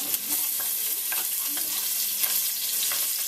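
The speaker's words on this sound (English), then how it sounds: "when my onions are frying, they're getting golden brown" Finely chopped onions frying in oil for a vegetarian chili, giving a steady close sizzle with occasional crackles and stirring scrapes throughout.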